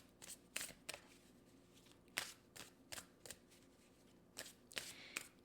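Oracle cards from a Music Oracles deck are shuffled by hand in quick, crisp bursts of riffling, several separate shuffles close to the microphone, with no talking.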